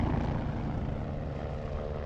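Display helicopter flying at an air show, a loud steady rotor and engine roar that fills the whole moment with no talking.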